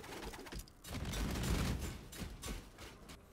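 Explosive Trap of Shrapnel in Path of Exile sets off a level 20 trap with nine explosions, heard as a dense, moderately quiet burst of overlapping pops and crackles that lasts for several seconds.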